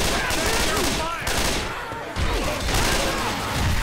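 Hunting rifle fire with incendiary rounds in Left 4 Dead 2, loud repeated shots in a dense fusillade mixed with game chaos, with a brief lull midway before the firing resumes.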